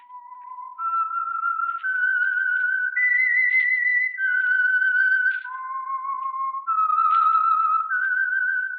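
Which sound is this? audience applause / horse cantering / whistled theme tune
whistled theme tune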